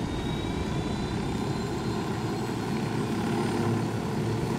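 Helicopter in the PC video game Ghost Recon Wildlands, a loud, close, continuous rotor and engine drone with a heavy low rumble that holds steady throughout with no talking.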